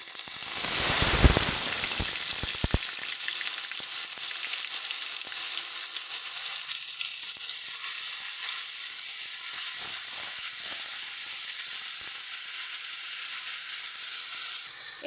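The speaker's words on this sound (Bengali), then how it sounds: "দিয়ে দিচ্ছি 2টো তেজপাতা, দিয়ে দিচ্ছি পেঁয়াজ বাটা" Bay leaves and onion paste hit hot oil with a loud burst of sizzling that settles into a steady, close frying hiss, a couple of sharp crackles at the start.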